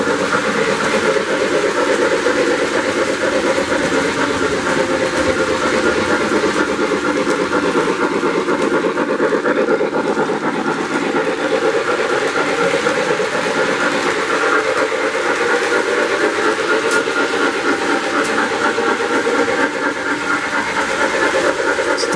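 An MTH Big Boy model steam locomotive runs continuously, a loud, steady rushing hiss and rumble with constant motor drone and no break throughout, close to the track.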